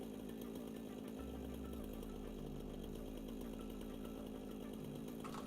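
Chainsaw in the game Satisfactory running steadily for the whole stretch, a loud continuous buzzing engine drone with slight pitch shifts, close and without a break.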